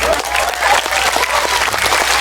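An audience at an Islamic sermon gathering in Taichung, Taiwan, breaks into dense, steady applause. The clapping is close and full for its whole short span.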